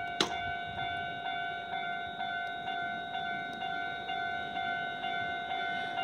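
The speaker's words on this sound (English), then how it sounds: "we're gonna get a train sighting here" A train passes along a Japanese shopping street, heard as a steady, fairly faint tonal drone with soft regular pulses about twice a second over low background noise, with no talking.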